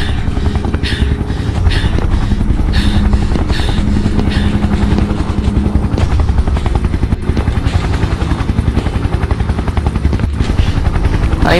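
A loud, steady video game helicopter rotor drone runs throughout with rhythmic chopping, joined by scattered clattering and metallic impacts.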